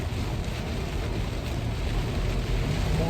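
Heavy rain pours steadily during a wind-storm chase in Washington State, a dense unbroken roar with a strong low rumble, loud and close with no pauses and no talk.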